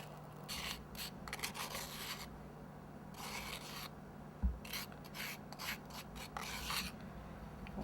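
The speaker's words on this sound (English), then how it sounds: "Just etch a little line with the knife." A knife etches a line into a decorated Easter sugar egg with several short, dry scraping and rasping strokes in uneven bursts, close and quiet, with no voice.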